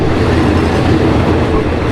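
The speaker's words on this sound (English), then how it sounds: "They have a track, a train track, where there's a train coming nearly every hour." A train runs loudly along a track beside a shelter in Thailand, a dense, continuous rumble and rattle heard close up, with no voices.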